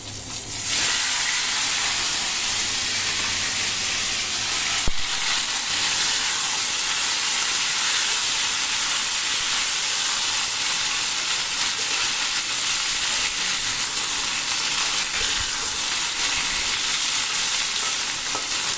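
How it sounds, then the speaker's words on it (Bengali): Cumin seeds and green chillies sizzle in hot oil in a kadai, a loud, continuous hiss that holds steady throughout, with a brief clatter near the start and no voices. "কড়াইতে দেখো জিরে আর কাঁচা লঙ্কা ফোড়ন দিয়েছি"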